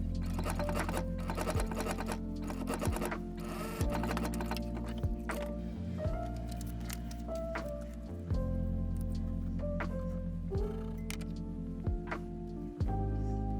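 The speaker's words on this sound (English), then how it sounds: "Sew from the front side along the bias tape edge." Home sewing machine running steady stitching bursts along a bias tape edge while making a lined docker hat, a continuous mechanical whir with brief pauses and restarts, close and alone.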